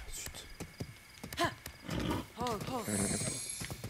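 A horse in Zelda: Breath of the Wild snorts and whinnies in a few short bursts, mixed with hoof clatter and game sounds, near and fairly loud.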